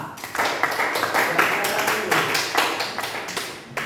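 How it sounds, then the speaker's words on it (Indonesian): A group claps their hands in a quick, uneven patter that continues steadily for several seconds, close and moderately loud. "Tepuk tangan."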